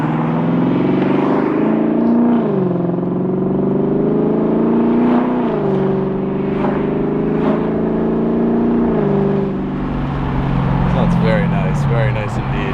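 A Lexus LS 430 engine runs after a radiator replacement, still a little cold, with a steady low hum that rises and falls in pitch with light revving, close and loud, and someone speaking over it.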